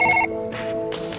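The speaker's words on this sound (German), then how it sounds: "jetzt hatte vorhin das Telefon geklingelt" A telephone rings in Surgeon Simulator 2013: a short electronic trill that cuts off, followed by soft background game noise and faint clicks, with no talking.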